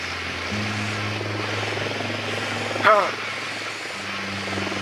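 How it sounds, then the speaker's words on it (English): In Ghost Recon Wildlands, a drone deploys with a steady buzzing propeller whine that holds through the clip, then a brief sweeping whoosh near the end. The sound stands alone, close and moderately loud. "Deploying drone."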